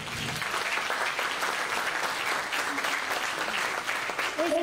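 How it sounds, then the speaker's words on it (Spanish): Sustained applause from a crowd of parents and guests at a youth sports gala, dense and even clapping lasting several seconds, with a brief voice near the end. "Un aplauso para ustedes."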